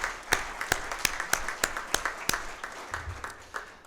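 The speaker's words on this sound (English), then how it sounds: "So how about a round of applause for that?" Audience at a fire and emergency services badging ceremony clapping, with individual sharp claps fairly sparse and distinct, fading toward the end.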